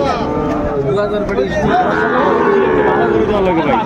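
A Sahiwal bull calf moos loudly and steadily, close by, with people talking in the background.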